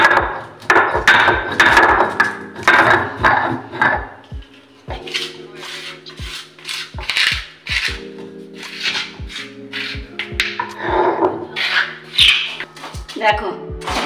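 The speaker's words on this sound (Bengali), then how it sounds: "এলাচটা এবার আমি গুঁড়ো করে নিই।" Cardamom pods are crushed into powder by hand in a home kitchen. Sharp, close knocks and grinding scrapes come in quick irregular bursts, with a faint background hum between them.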